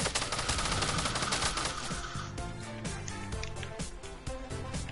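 Rapid bursts of gunfire from a Fortnite match, likely a minigun or pump shotgun, fire as a dense, loud, continuous rattle over layered game music and effects.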